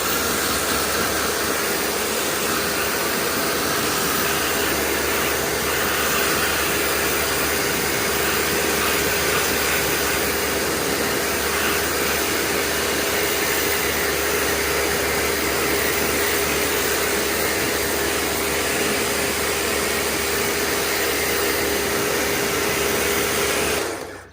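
Pressure washer jet blasting the fabric interior of a Mk2 Golf in a workshop, a loud, steady hissing spray that runs continuously for the whole stretch with no talking.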